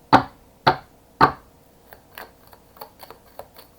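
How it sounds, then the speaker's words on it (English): Tarot cards being shuffled, three crisp, loud riffling snaps at the start followed by softer, scattered taps and clicks as the deck settles, close up with no voices. "One more round of shuffles."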